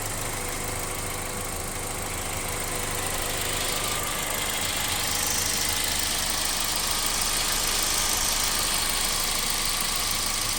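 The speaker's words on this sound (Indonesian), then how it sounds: "Ini kondisi AC menyala, mesinnya seperti ini. Silakan didengarkan bunyinya." Engine of a 2003 Toyota Vios G with about 186,000 km, idling with the air conditioning running, a steady, fairly smooth hum with a constant broadband hiss from the AC fan, close and even throughout.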